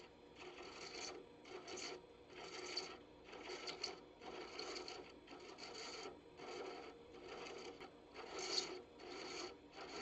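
Recycled plastic being thread-chased on a lathe, giving a steady rasping scrape in repeated rhythmic strokes about once a second, close and moderately loud with no talking.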